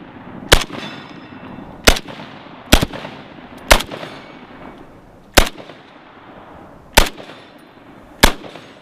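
A PSL-54 rifle chambered in 7.62x54R fires seven loud, sharp shots outdoors, spaced roughly one to one and a half seconds apart, each crack ringing out briefly with no talk over them.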